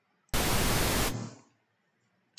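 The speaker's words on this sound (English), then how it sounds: "And I like pink noise for this kind of application." Pink noise from music production software plays as a loud, steady broadband hiss for about three-quarters of a second, then trails off as filtered noise, with a faint click near the end.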